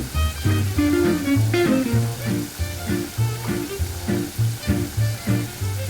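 Water poured into a pan of hot oyster sauce sets off a loud, bubbling sizzle that pulses steadily, with a voice talking over it.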